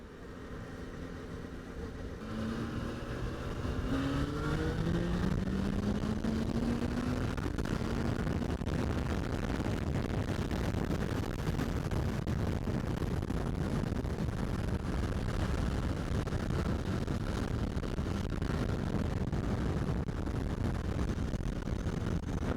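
A Yamaha FZ6 motorcycle rides along a road, its engine note rising through gears at first and then settling into a loud, steady roar mixed with wind rush for the whole stretch.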